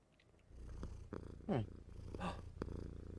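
A recorded cat purring plays from a webpage, a low rumbling purr rising and falling in steady cycles, fairly close and continuous, with a few higher chirpy squeaks and no talk over it.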